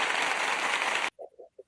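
A loud, dense burst of explosion sound effect roars continuously for about a second, then cuts off abruptly into near silence with a few brief, faint sounds.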